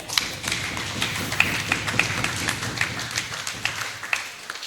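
A church congregation claps together in a steady, fairly dense patter of hand claps lasting several seconds, heard from within the crowd at moderate loudness.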